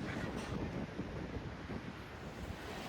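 Waves and wind at Manori Beach in Mumbai make a continuous broad roar of surf, with wind buffeting the microphone. No voices are heard.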